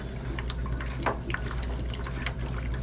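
Water draining from a household water heater through an attached hose onto the street, a continuous gurgling trickle with small splashes, steady and close.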